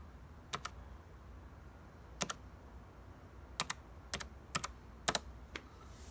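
Keys on a Logitech MX Mechanical wireless keyboard with clicky blue switches click in short, sparse bursts, about a dozen sharp close taps spread over quiet pauses.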